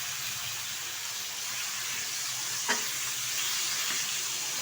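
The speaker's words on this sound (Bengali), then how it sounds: "ভালোভাবে বেশ কিছুক্ষণ কষিয়ে নেব।" Goat meat frying with spices in a pan makes a steady, close sizzle and hiss, broken once by a brief stir or scrape partway through.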